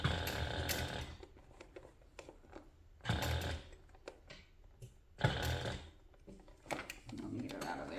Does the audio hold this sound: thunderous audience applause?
no